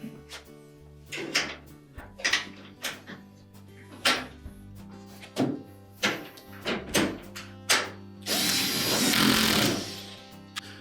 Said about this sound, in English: Install the retaining screw, and then reverse the procedure for the other side.